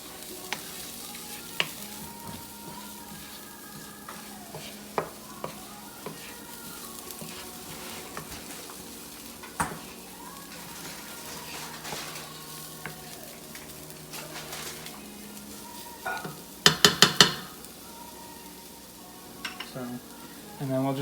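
Aromatics with cumin and chipotle cooking in a pan for lentil tacos, a soft, steady sizzle broken by scattered spoon scrapes and clinks, with a brief burst of louder clattering near the end.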